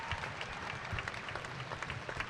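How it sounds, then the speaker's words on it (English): A crowd claps and cheers steadily at a strongman world championship as an under-80kg athlete lifts a 275-pound stone to claim a world title; dense, continuous applause fills the short stretch with no speech. "One more cheer for Rebecca Roberts right there."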